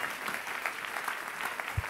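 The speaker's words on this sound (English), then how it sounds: "Clap your hands for Jesus" A church congregation claps together during a prophetic worship service, a steady dense patter of many hands filling the room at moderate volume.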